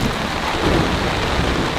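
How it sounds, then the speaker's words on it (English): Heavy rain pours down during a night thunderstorm, a dense, loud wash of drops on surfaces with low thunder rumbling underneath and no voices. "it is pouring out there"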